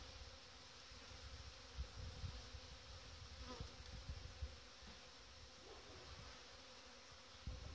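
Honeybees hum inside an open hive with four frames of bees in February, a faint continuous buzz with occasional soft knocks and handling sounds close by, and no speech.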